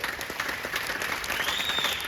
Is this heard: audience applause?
yes